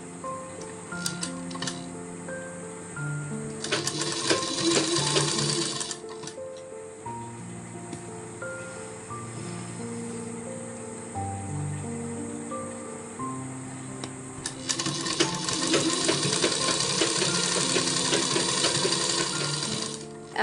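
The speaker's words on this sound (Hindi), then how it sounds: "इस पर मैं सिलाई लगा लेती हूँ यहाँ पर अच्छे से, और इस तरफ को भी इसमें सिलाई लगा लूँगी।" A sewing machine stitches organza fabric for a dupatta, its motor whirring in sustained bursts near the start and end with a quieter mechanical hum and clicks in between; no talking.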